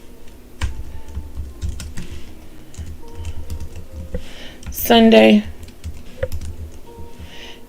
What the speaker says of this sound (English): we're just typing Saturday